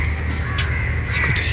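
Crows caw in a steady, harsh chorus close by, their calls layered over a constant low rumble with a brief voice slipping in.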